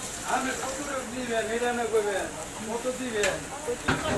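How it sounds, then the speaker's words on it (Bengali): Coiled jalebi frying in a pan of oil, a soft continuous sizzle heard under a person talking throughout. "দেখেন এই জিলাপিগুলো ভাজা হচ্ছে"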